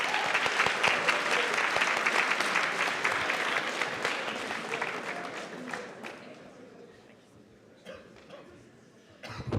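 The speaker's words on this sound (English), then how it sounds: "So please give a round of applause and welcome them to the stage." A hackathon opening-ceremony audience applauds in a loud, sustained wash of clapping that gradually thins and fades, with a few scattered claps and murmurs at the end.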